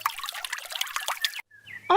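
River water trickles and splashes in quick, close bursts as a cartoon bird bathes and drinks, then cuts off abruptly before a brief tonal sound.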